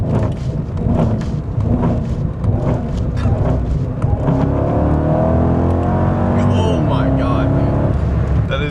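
A car engine revs and accelerates hard, loud and close, with a rising whine in the second half and voices talking over it.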